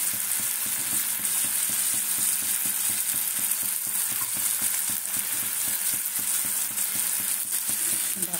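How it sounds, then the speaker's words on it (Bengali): Kashmiri chili powder sizzling and frying in hot oil for a meat dish, a loud, dense crackling hiss held steady throughout, close up, with light stirring clatter. "এই দেখো, কাশ্মীরি লঙ্কার গুঁড়ো দিয়ে দিচ্ছি।"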